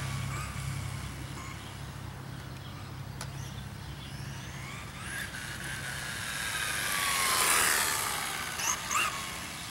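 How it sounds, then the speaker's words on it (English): A Vaterra Chevy C10 brushless 3S RC truck makes a full-throttle pass: a faint, distant whine swells to a high-pitched peak as it passes close, then fades, all over quiet outdoor background. "Full throttle pass there."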